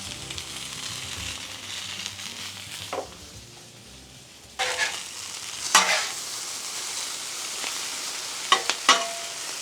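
Italian sausage and peppers sizzle on a 36-inch griddle with a close, even crackle, broken by a quiet pause midway and by sharp metal spatula scrapes and clacks as the pieces are spread out.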